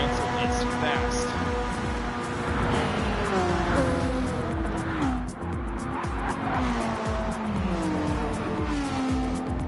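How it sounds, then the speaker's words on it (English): A Mitsubishi Lancer race car screams through a corner during the Nihon 400km, its engine note rising and falling through gear changes as tires squeal, loud and continuous, with race commentary running underneath. "That Lancer is fast"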